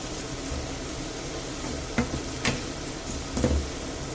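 Broken spaghetti with chicken and chorizo frying in a pan with a splash of broth, a steady close sizzle with a few scraping stirs of a utensil against the pan.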